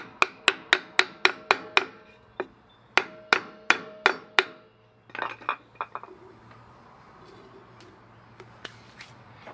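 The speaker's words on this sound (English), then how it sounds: "using a block of wood and a hammer, you can tap it on tight." A hammer strikes a wood block to tap a dust cover onto a trailer wheel bearing, giving quick bursts of sharp, ringing knocks in rapid runs, followed by fainter scattered taps and handling noise.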